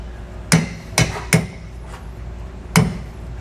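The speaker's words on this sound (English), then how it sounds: "even before I started hammering on it" Four sharp hammer blows on a flat punch driving worn nylon bushings out of a tandem axle trailer suspension, spaced irregularly, close and loud with no speech.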